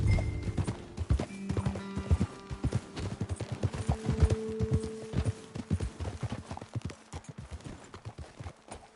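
Horses' hooves clip-clop in a video game as riders travel up a trail, an irregular run of close, distinct hoof strikes with brief mechanical tones in the background.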